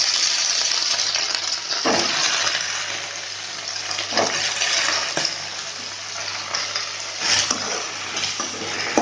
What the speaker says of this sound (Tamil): நல்லா கத்திரிக்காய் வதங்கணும்